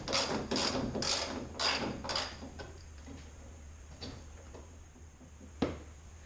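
A 3/8-inch drive ratchet with a 12 mm socket works loose the bolts on a 2016+ Toyota Tacoma ditch light bracket, with a quick burst of clicking strokes followed by a few sparse clicks and a single clunk, close and clear.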